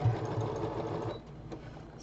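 A sewing machine stitches a boho project bag, a fast steady mechanical whirr with rhythmic needle knocking that runs close and loud, then eases toward the end.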